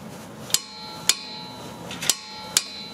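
Torque wrench clicking on a rear brake caliper bolt of a Dodge Journey, four sharp metallic clicks at roughly half-second intervals, close and clear over faint background noise.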